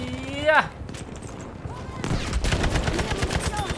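Bursts of Type 11 LMG machine-gun fire in Battlefield V ring out in rapid, dense volleys, growing heavier in the second half, with an excited voice shouting over the gameplay.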